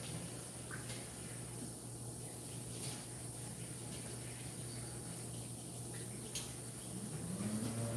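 A kitchen faucet runs water over herbs in a colander. The flow is a steady, soft gushing hiss that stays fairly even throughout and is heard at a moderate distance.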